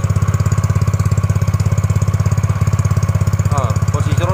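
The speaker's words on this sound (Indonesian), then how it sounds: "Makanya suara knalpot bising." A Yamaha Mio GT scooter idles with a loud, noisy modified exhaust, a steady rapid pulsing putter held close and constant, with a brief faint chirp near the end.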